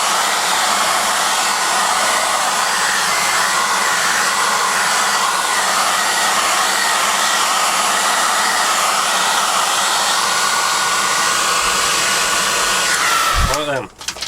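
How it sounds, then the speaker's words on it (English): A hair dryer blows steadily and loudly at close range over a freshly painted 1/48 scale HobbyBoss F-14D Super Tomcat model, a constant broadband whoosh that winds down abruptly near the end. "So let's get the hairdryer on it just to dry it all back."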